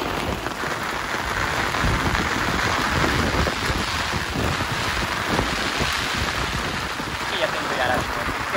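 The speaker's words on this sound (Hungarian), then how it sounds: "Folyamatosan szakad az eső," Heavy rain pours down steadily and close during a January carp-fishing session, with a dense, continuous patter and hiss on the surfaces around and gusts of wind buffeting the microphone.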